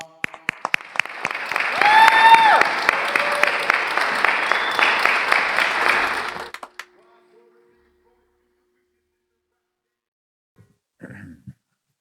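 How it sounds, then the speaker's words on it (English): Festival audience applauding a poet taking the stage at an urban arts festival, dense loud clapping with a few cheers for about six seconds, then silence and a brief faint rustle near the end. "Clap it up for him, y'all"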